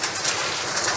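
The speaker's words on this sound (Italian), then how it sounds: "Sta grandinando." Hail pelting down in a sudden May storm in the Rieti area of Lazio, a dense, steady hiss of close impacts filling the whole moment without any talk.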